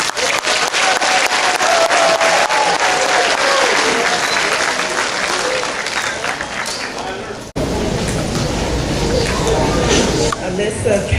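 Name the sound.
audience applause for fifth graders at a graduation ceremony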